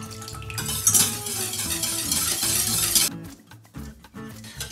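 A spoon stirs an orange juice mixture for an orange tart in a pan, with scraping and clinking against the pot. It is close and fairly loud, then drops off abruptly before a few last scrapes.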